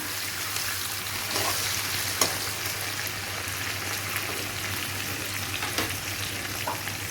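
Potatoes frying in oil with bay leaf and chili for ghugni, a steady close sizzle and crackle with a low hum beneath and a few faint stirring knocks.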